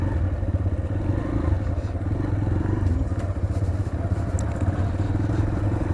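A TVS Raider 125 motorcycle rides along at steady speed, its engine a continuous close low drone mixed with wind rumble and road noise, no voices.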